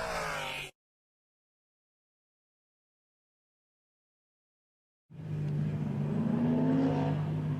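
A muscle car engine revving hard at a mountain road course, heard in a short burst before a long silence, then returning as a sustained, fluctuating high-revving drone as it bounces off the rev limiter through a turn.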